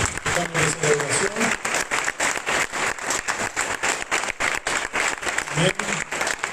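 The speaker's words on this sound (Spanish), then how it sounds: "Den un aplauso al Señor" Church congregation clapping together during a united worship service, a loud, rhythmic beat of many hands with scattered voices and brief vocal sounds mixed in, continuing for several seconds.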